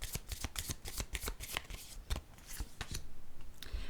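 A deck of cards being shuffled, a rapid riffling flutter of close, crisp card snaps lasting a few seconds before the first card is drawn.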